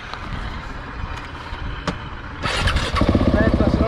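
A KTM SMR 690 supermoto motorcycle's engine fires up partway through, rising into a loud, pulsing idle close by, with people talking over it.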